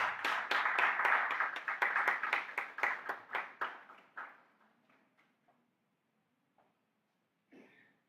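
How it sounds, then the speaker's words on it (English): A handful of people clap at a youth democracy forum, sparse distinct claps in a quick rhythm that thin out and stop within a few seconds, leaving near silence with a faint cough-like noise. "Let's welcome her with a round of applause."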